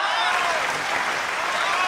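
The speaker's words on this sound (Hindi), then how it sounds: "भाई तालियां कम थी" Dense clapping from an audience at an Urdu poetry recital, a steady wash of applause with some crowd noise and faint voices mixed in.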